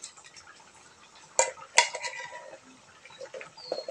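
A spoon scrapes and clinks against a pan as a cooked papaya kofta mixture is transferred into a bowl, with two sharp metallic knocks in the middle and softer scraping around them, close and fairly quiet, with no voices.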